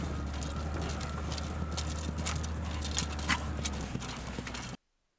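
Horse hooves clip-clop steadily across open ground during Scythian-style mounted archery, a continuous close rhythm of hoofbeats with a faint whinny, ending abruptly in silence.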